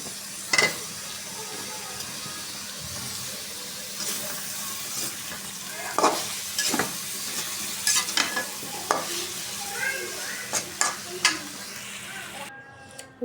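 Cauliflower, potato and hilsa fish frying in a wok, with a steady sizzle broken by repeated clattering stirs and scrapes near the pan, while a voice is heard now and then.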